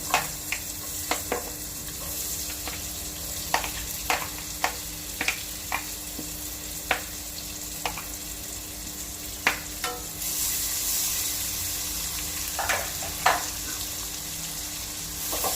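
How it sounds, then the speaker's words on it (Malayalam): Two medium onions sauté in oil over high flame for chicken pulao, a steady sizzle punctuated by regular sharp spatula scrapes and clacks against the pan, close and clear with no talking. "സവാള ചേർക്കാം ഒരു മീഡിയം സൈസ് രണ്ട് സവാളയുണ്ട്"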